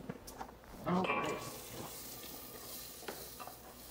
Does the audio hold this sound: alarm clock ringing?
no